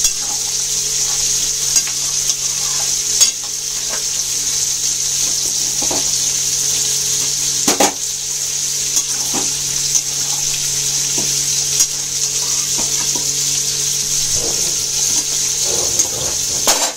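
Meat sizzles in a pan as it is lightly fried and stirred, a constant bright frying hiss with occasional scraping knocks of the spoon, close and loud, no speech.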